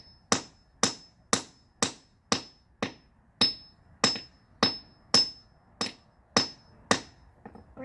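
A hammer strikes a geode about a dozen times in a steady rhythm, each sharp, close, loud crack ringing briefly before the next blow, with no talking.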